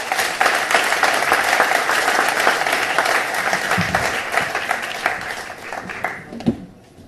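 Sustained applause from a large conference audience, steady dense clapping that thins out near the end.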